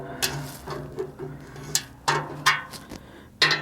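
Mechanical clicks and ratcheting taps from adjusting the lugs on cheap Glarry timbales, a few sharp, close, irregular clicks spaced over a few seconds with quiet gaps between them.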